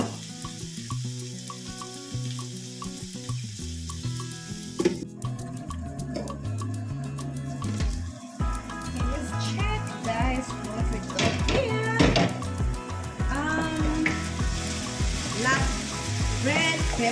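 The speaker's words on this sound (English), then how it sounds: "let me give green pepper and yellow pepper to cook a little bit" Green and yellow peppers fry in a pan, a steady sizzle mixed beneath prominent background music that shifts partway through.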